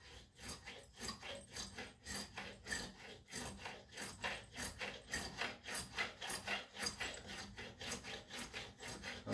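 Hand file rasping across nickel brass guitar frets during fret crowning, a steady run of rhythmic strokes about two per second, close and fairly loud with no talking.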